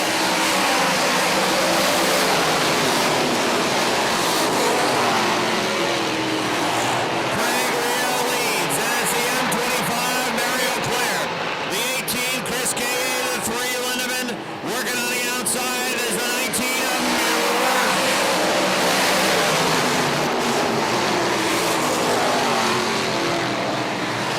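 Race cars run wheel to wheel on a track, a loud continuous roar of several engines revving and passing close by, layered with crowd noise and a commentator's voice throughout.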